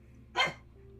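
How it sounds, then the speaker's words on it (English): A single short, sharp bark from a dog indoors, sounding once at moderate distance against a quiet background hum. "I had to mute while I scream at my dog, Charlie."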